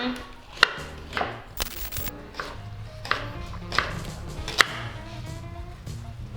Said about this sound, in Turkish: Bu arada enginarları doğruyorum ama bunlar hazır soyulmuş çanak enginar dediğimiz enginarlardan.